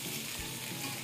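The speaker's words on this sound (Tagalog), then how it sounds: "Habang niluluto natin yung tomato, lalagay natin itong ginger." Tomato pieces frying in a pan, giving a dense, steady close-up sizzle with a few soft stirring bumps, no voices.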